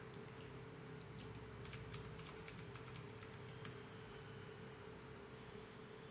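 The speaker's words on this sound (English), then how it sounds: "Type your password." Password being typed on a computer keyboard, a quiet run of light key clicks in irregular bursts over a steady low hum of fan or room noise.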